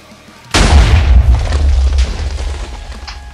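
A TNT cannon blast in Minecraft, one sudden loud, close explosion with a deep rumbling tail that slowly fades, no talk.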